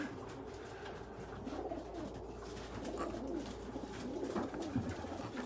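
Racing pigeons coo in a loft, soft low throaty calls repeating under a constant broad background hiss, with no speech.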